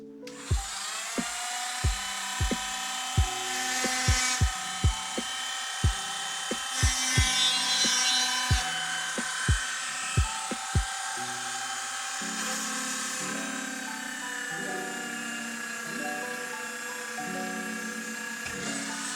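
A handheld Dremel rotary tool drills into a stone, its high-pitched whine running steadily and close throughout, broken by a series of sharp taps and knocks as the bit bites into the stone.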